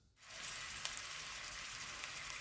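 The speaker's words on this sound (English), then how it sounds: "we're gonna start dropping them into the pot to sear them off" Meatballs searing in a non-stick frying pan, a sudden burst of steady hissing sizzle as they hit the hot surface, close and continuous, with no talk.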